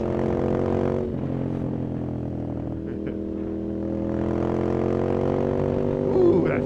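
A Ducati Monster S2R being ridden, its engine holding a steady, droning harmonic tone with slight rises in pitch, close and continuous over a wash of wind noise.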